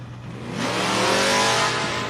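A Chevrolet Chevelle drag car at a handicap drag racing event revs hard, its engine swelling from a low idle into a loud, sustained, close roar with rising harmonic tones.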